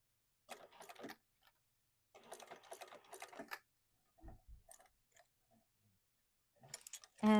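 A sewing machine top stitches the finished edge of a fabric sling bag in two steady runs of rapid stitching separated by a pause, followed by softer clicks and handling noises.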